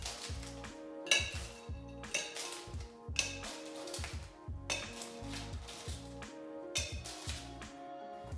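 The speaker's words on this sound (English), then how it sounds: "I'll give it a stir" Cognac cocktail with Angostura bitters stirred over ice, a bar spoon swirling cubes in a glass in a steady rhythm of close, bright clinks and rattles, with no talk.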